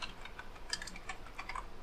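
Quiet typing on a computer keyboard, with a run of light, irregular key taps at close range and no voices.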